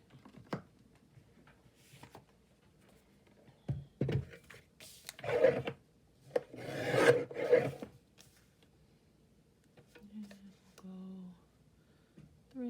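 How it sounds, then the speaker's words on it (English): Paper specimen card trimmed to size with a craft cutting tool: soft rasping, sliding cuts in short bursts, close and moderately loud, with quiet gaps and a brief hum near the end. "Okay, let's trim that down."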